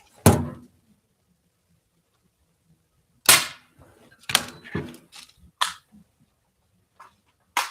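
A pump BB gun during target training fires several sharp cracks: one near the start, a tight cluster in the middle with softer clicks and thumps between, and another at the end, close and isolated amid quiet gaps.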